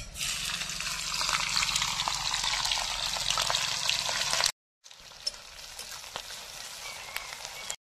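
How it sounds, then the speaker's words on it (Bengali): Green chilies and onion added to hot oil in a wok, giving a dense, steady sizzle, close and moderately loud, cut by a brief silence before a quieter hiss resumes, with no talk. "এবার ছেড়ে দিচ্ছি কাঁচামরিচা, পেঁয়াজ।"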